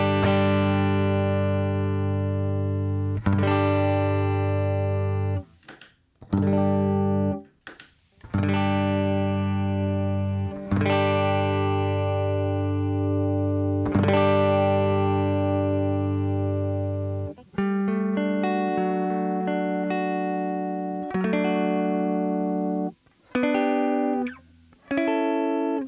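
An electric guitar plays sustained, buzzy chords through a fuzzy effect, with sharp breaks between strums and a brighter, thinner picked passage near the end.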